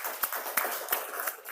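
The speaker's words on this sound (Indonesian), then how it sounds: "Jadi kita aplaus dulu semua." Group of students clapping together in a classroom, brisk close rhythmic claps with a few sharper accents over a short burst of applause.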